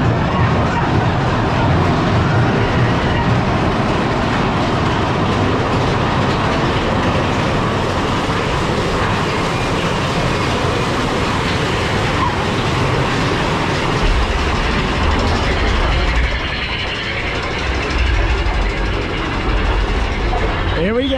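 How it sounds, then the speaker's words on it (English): Big Thunder Mountain Railroad roller coaster train at Disneyland rumbling along its track, a loud continuous clatter and roar with rattling cars that deepens into a heavy low rumble near the end, with voices mixed in. "it's time for the wildest ride in the wilderness. Big Thunder Mountain Railroad."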